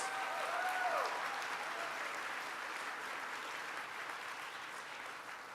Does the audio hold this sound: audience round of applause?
yes